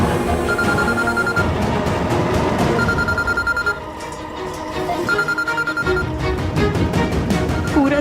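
A telephone rings repeatedly in a domestic television drama scene, its regular ring bursts sounding loud and close over a steady musical background, with no talk.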